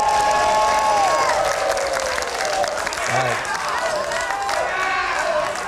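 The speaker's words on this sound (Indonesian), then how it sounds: "Baik, untuk paslon nomor urut 2 mungkin juga tepuk tangannya boleh." An audience at the first public debate for the 2024 Sorong regent and vice-regent election applauds candidate pair number 2 with continuous, dense clapping. A speaker's voice is heard briefly over the applause.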